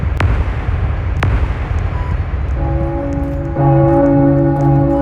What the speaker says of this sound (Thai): เสียงระฆัง